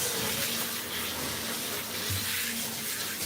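Warm water runs steadily while shampoo is rinsed off a Himalayan cat in a bath, a close, constant splashing gush from a tap with no speech.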